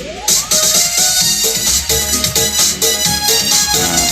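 Full-band music with drums and dense instrumentation plays steadily from an LG home theater speaker at moderate volume, with no talking over it.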